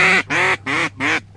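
Four loud, nasal duck quacks in quick, evenly spaced succession, close and clear with no talking over them.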